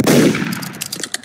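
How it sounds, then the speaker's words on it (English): Gunshot in the Roblox game Murder Mystery 2: a single loud, close burst at the start that decays quickly, followed by faint clattering game sounds. "Oh crap, a gunshot."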